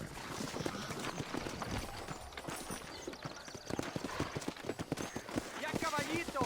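Horse hooves clip-clop steadily through a scene in the Western video game Red Dead Redemption, a repeated near rhythm of hoof strikes with a brief whinny late on, under background game ambience.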